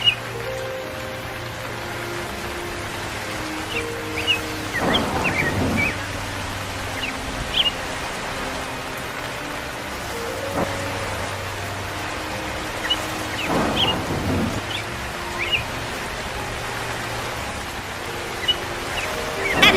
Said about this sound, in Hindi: अरे बारिश हो रही है, तूफान है